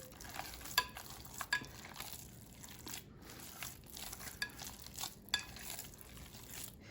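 Ground meat for meatballs is worked by hand in a bowl, giving soft squelching and crinkling rustles with a few sharper clicks, close and quiet with no talking.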